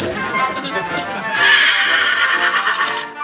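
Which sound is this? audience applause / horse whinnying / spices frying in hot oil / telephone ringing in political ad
horse whinnying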